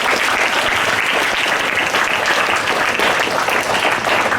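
Sustained audience applause at a career counseling session, a dense steady wash of many hands clapping at even loudness throughout, with no voices over it.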